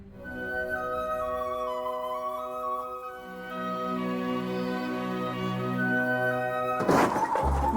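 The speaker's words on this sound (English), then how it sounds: "What are the chances of a catering truck slamming into an aeroplane?" A catering truck slams into an aeroplane: a sudden loud crash near the end cuts through a sustained droning musical tone.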